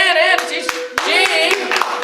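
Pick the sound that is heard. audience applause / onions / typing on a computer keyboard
audience applause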